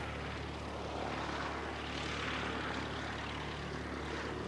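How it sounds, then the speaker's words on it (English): Aircraft engine noise passing overhead near an aero club, a steady droning roar with propeller-like buzzing that swells slightly midway, continuous and fairly distant, with no voices. "This is the aircraft making the noise."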